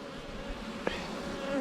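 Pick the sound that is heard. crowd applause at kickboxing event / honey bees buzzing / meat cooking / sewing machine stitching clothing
honey bees buzzing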